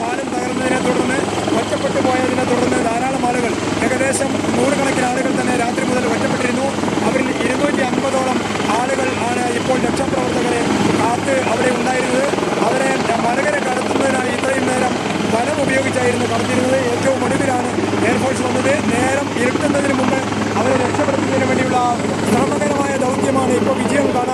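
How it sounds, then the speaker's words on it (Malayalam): An Indian Air Force helicopter lifts off from a mountain road in a disaster rescue area, its rotor thudding loud and steady throughout with an engine drone underneath, while voices talk over it. "ഇന്ത്യൻ എയർഫോഴ്സിൻ്റെ ഹെലികോപ്റ്ററാണ് ഇപ്പോൾ അവശ നിലയിലായ ഒരാളെയും കൊണ്ട് ഇവിടെ നിന്ന് പോകുന്നത്"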